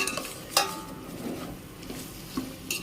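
Masala for coconut-milk veg biryani being sautéed in a pan: soft sizzling with a spoon scraping and stirring, a few sharper clinks against the pan, fairly quiet and close.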